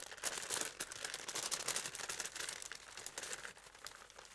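Paper crackles and crinkles continuously as sifted flour is tipped from it, a close, busy rustle of irregular crisp bursts.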